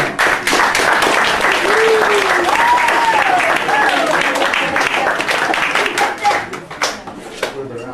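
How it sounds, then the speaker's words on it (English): An audience claps for Phil at an evening corporate-style event, a sustained round of applause with voices and whoops rising over it, thinning into scattered claps toward the end. "Round of applause again for Phil."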